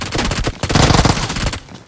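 Gunfire in the mobile battle-royale game PUBG comes as a loud, rapid burst of automatic shots with a brief gap near the middle, close and dominant with no talk over it.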